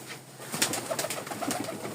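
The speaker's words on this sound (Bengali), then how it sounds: "এখানে অনেক কবুতরই আছে" Giribaz pigeons at a Rajshahi loft coo softly in a short, close series of low burbling calls, with no voices.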